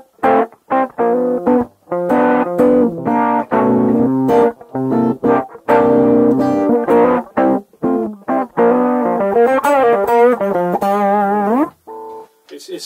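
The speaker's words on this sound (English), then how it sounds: "overdrive in front of it, you get a kind of quirky overdrive effect" Electric guitar played through a Sonuus Wahoo wah pedal with overdrive in front, choppy distorted chords and a sweeping filtered phrase, loud and close with no talk.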